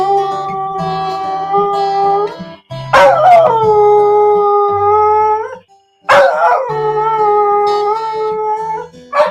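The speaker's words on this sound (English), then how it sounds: "Good Lord, that dog is rammy." A dog howls in long, drawn-out tonal wails, three sustained howls separated by brief yelps and short pauses, loud and close, with a lower steady tone underneath.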